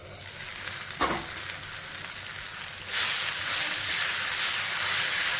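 Brinjal pieces sizzle in a pan as a Kerala-style mezhukkupuratti fry, a steady close hiss that jumps louder and brighter about three seconds in, with a light stirring scrape early on and no voices.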